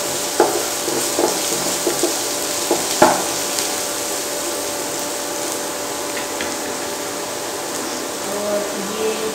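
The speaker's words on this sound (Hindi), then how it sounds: "प्याज अच्छे से भून चुका है तो इसमें थोड़ा सा गार्लिक डाल दिया मैंने। इसको ज़्यादा नहीं भूनना है" Garlic frying with already-browned onions in a pan for an Indian home dinner, a steady close sizzle with a few soft spatula taps and scrapes, no talk over it.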